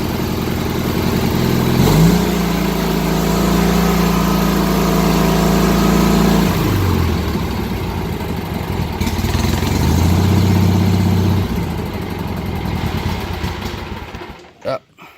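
A 1989 Cub Cadet 2072 garden tractor engine running steadily up close, its loud low drone shifting pitch as the throttle changes before dropping off near the end.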